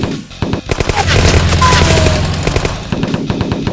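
Rapid machine-gun bursts and scattered gunshots crackle loudly in a battle involving a tank, dense volleys with a few booms, with no talking.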